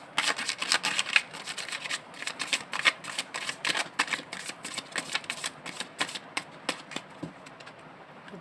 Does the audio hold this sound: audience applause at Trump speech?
no